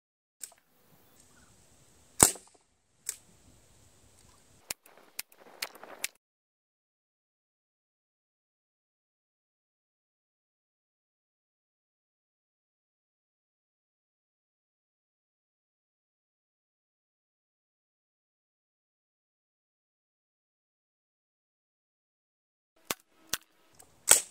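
A Sig Sauer MPX .177 air rifle converted to high-pressure air, fired from a 3000 psi fill, giving a few sharp, quiet cracks with mechanical clicks at the start and again at the end, separated by long silence.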